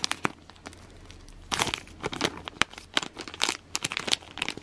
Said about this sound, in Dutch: En dan gaat het zakje dicht.